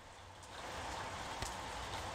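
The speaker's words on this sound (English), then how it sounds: "So I used my phone to record a sample of the rain" Rain in Los Angeles recorded on a phone, a steady soft hiss of falling drops with a faint low rumble, distant and even, with no voices.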